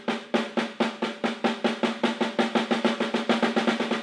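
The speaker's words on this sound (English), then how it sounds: "Now the paradiddle would be." Steady paradiddle sticking on a drum kit, an even run of quick, close, punchy strokes holding a constant rhythm for about four seconds with no pauses and no talk.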